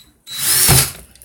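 A power drill spins briefly to twist coil wire, one loud whirring burst that rises, peaks and winds down within about a second, close up with no talk.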